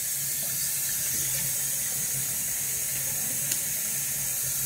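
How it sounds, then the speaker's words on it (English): Steady, fairly loud hiss of tap water running continuously into a bathroom sink during a shave routine, with no talking and only a faint tap partway through. "So we'll throw a little cold water on the face."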